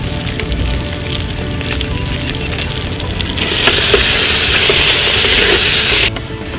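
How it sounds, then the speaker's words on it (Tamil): Onions frying in oil in a pan with whole spices such as mace, cloves, cardamom and cinnamon, a steady broadband sizzle that swells louder midway for a few seconds and then drops back to a lower crackle. "வெங்காயம் நல்லா பொன்னிறமா வதங்கிருச்சு."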